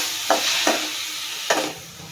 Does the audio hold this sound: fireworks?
no